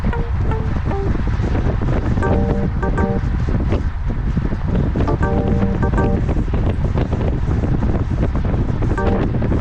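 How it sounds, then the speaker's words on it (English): Loud, constant wind buffeting the microphone while cycling, a rough rumbling roar with faint tonal chirps scattered through it. "It's very windy on this stretch"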